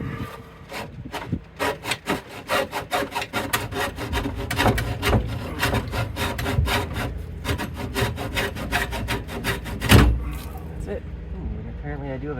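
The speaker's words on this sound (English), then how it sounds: "This is pretty soft plastic. So a hacksaw makes pretty quick work of it." A hacksaw cuts through soft plastic pipe during an RV valve install, a fast run of sharp rhythmic rasping strokes close up, ending with a clunk as the piece comes free.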